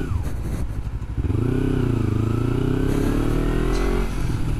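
A car pulling away and shifting gears without using the clutch, the engine clattering low at first and then droning loud and steady as it accelerates.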